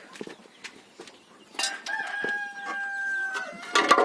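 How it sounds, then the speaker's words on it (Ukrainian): Chickens cluck nearby, and a rooster crows midway in a long drawn-out call, ending in a burst of loud squawking. "Тут у цьому дворику у нас такі маленькі курочки"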